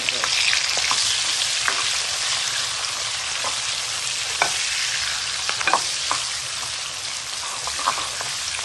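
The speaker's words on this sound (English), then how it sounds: "fry like this." Onions sizzling and frying in a little oil in a pan, a steady bright crackle with occasional sharper pops and stirring scrapes, close up and continuous with no talk.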